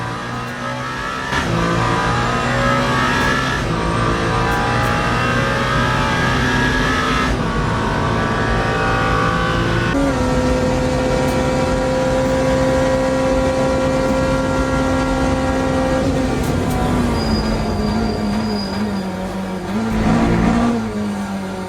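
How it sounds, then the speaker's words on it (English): A Porsche race car in the Le Mans Ultimate racing game, running the 24 Hours of Le Mans. Its engine drones at sustained high revs with several gear shifts and a loud rev surge near the end. "And this car sounds like a Porsche."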